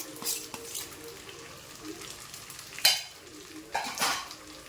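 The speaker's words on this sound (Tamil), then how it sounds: "இப்போது சுடு சாப்பாடும் போட்டு கிளறிக்கலாம், ஆறுன சாதமும் போட்டு கிளறிக்கலாம்" Cooked rice is stirred into a tamarind mixture in a pan for homemade puliyodharai, with soft, intermittent scraping and clinks of a spoon against the pan over a faint sizzle, no talk.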